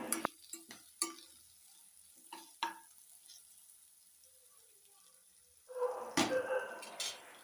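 Fish for chili fish frying in a pan with turmeric, with sharp scraping stirs and clinks over a faint, quiet sizzle, then a louder burst of stirring near the end.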